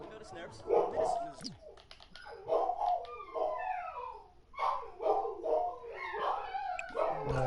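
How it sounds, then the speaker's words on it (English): Indoor dogs bark and yip in repeated excited bursts, some whining and howl-like, fairly close, with no clear talk over them. "My dogs again, barking at shadows."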